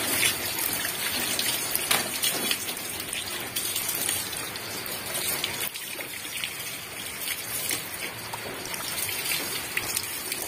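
Plain water, without soap or pressure, rinses a white matte 2021 Honda Scoopy scooter coated in Japanese nano ceramic. A steady close splashing and pattering runs unbroken throughout, with no talking.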